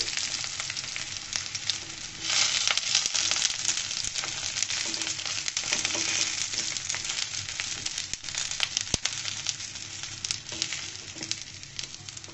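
Eggplant pieces frying in oil in a pan for a Bengali hotel-style begun bhorta, giving a loud, steady sizzle with crackling pops throughout and no talk.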